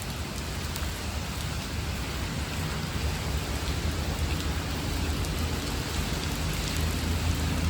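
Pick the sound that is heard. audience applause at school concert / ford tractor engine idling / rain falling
rain falling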